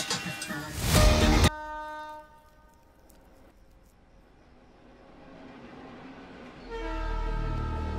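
A train horn blasts loudly at first, then a passing train rumbles and rattles at a moderate distance before the horn sounds again, with low rolling noise building at the end. The scene is from a movie.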